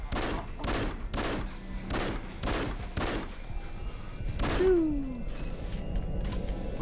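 Repeated gunshots in the video game Afterfall InSanity, about seven loud evenly spaced bursts over roughly four seconds, followed by a rising mechanical whine and a lingering noisy tail with no talking.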